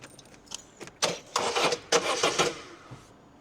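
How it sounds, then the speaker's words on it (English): A Citroen Berlingo engine cranks in a few short starter bursts and briefly catches, with close, uneven mechanical rattles, after fuel has been hand-pumped through. "you pump that for a few minutes and it starts up"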